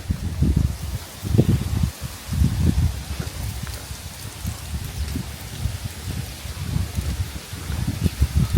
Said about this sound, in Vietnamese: Một ngôi làng hiện tại chỉ có tiếng gió thổi thôi. Và những cái tiếng xào xạc của lá tre.